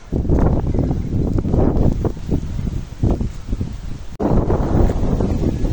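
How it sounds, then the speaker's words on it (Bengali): Strong wind blowing outdoors under a cloudy sky, a loud continuous roar buffeting close against the microphone in uneven gusts, with a brief dropout before the blustering resumes. "ঝড় মানে হচ্ছে, বাতাস হচ্ছে, অনেক প্রচুর বাতাস হচ্ছে"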